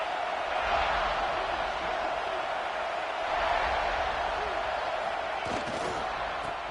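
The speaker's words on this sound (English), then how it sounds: "This crowd ready to make its presence known." A football stadium crowd's steady, loud roar as the home team meets its visitors at night, a dense wash of cheering that holds throughout with a brief sharper burst near the end.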